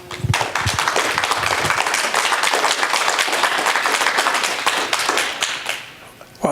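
An audience at a tax freeze forum breaks into sustained, dense applause that holds loud for several seconds before tapering off near the end.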